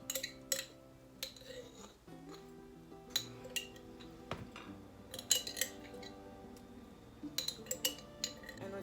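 A metal spoon scraping and clinking inside a jar of Grace jerk seasoning, with scattered light taps and scrapes at an irregular pace, close up.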